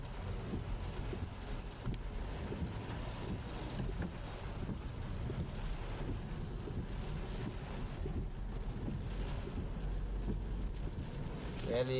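Strong wind whips around plants and trees among condo buildings, giving a constant rumbling roar and microphone buffeting that stays loud and steady throughout, with no clear talking.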